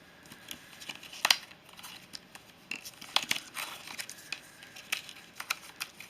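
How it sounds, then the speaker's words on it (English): Scissors snip small bits of card from the edges of a kinetic card, a series of short, crisp cuts with light paper crinkling, close and quiet, without speech. "just take a pair of scissors and chop them off"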